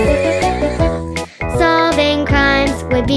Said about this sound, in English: ride on a white horse